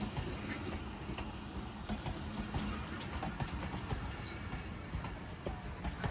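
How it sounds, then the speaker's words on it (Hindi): A long train rumbles steadily at a railway station in Mailsi, a continuous broadband roar of wagons rolling past with faint clickety-clack wheel beats, loud and close throughout with no talking. "भाई साहब कितनी लंबी है ट्रेन, चेक करो"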